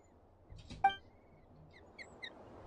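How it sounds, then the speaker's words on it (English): A weird animal chirp comes from a box in the video game Genshin Impact: one short, louder squawk-like call, then a few faint, high, quick chirps in a quiet scene with no talking. "Is it what's making that weird animal chirp sound?"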